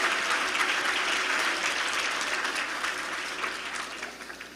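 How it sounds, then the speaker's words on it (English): Steady applause from an audience honoring youth mural competition entrants, a continuous wash of clapping that slowly tapers in volume toward the end. "let's give them one more round of applause, and to the others that submitted"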